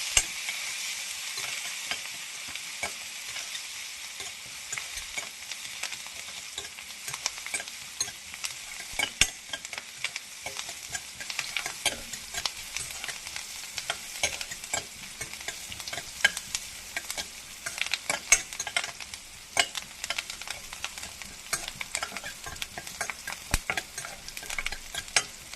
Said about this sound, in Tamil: நல்லா வெங்காயம் வதங்கிட்டோங்க